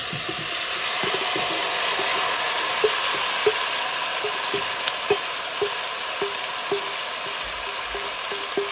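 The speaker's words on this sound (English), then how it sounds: "I'm gonna add the kidney to the pot" Kidney stewing in a pot on a stove in a Jamaican-style kitchen: a steady, bright sizzle and hiss of frying, with a quiet rhythmic scraping of stirring tapping through at regular intervals.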